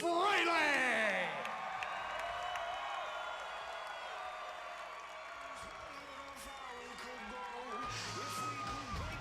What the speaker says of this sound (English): The crowd instantly blowing up.